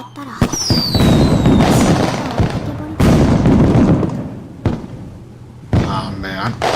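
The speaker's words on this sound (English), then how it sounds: "Sorry, the fireworks are really loud." Video game fireworks explode in loud repeated bursts, each boom followed by crackling that fades, with a voice speaking between the blasts.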